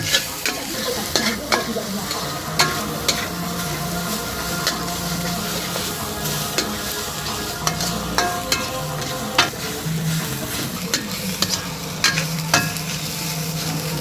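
Durian fried rice sizzles steadily in a pan as a utensil stirs it, scraping and tapping against the metal in irregular repeated strokes close up.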